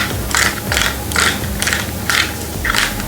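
Ratcheting clicks from a hand tool loosening 4mm Allen bolts on the handlebar bracket of a Himiway A7 Pro e-bike, in six short bursts of rapid clicking separated by brief pauses, close and fairly loud.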